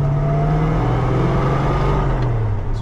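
A 1967 Pontiac LeMans engine drops in pitch as the car downshifts to third, a loud, close, steady drone heard from inside the moving car with no talk.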